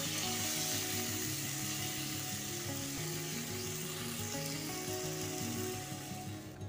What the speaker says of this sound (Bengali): বেগুনগুলো এবার একটু ভেজে নিতে হবে।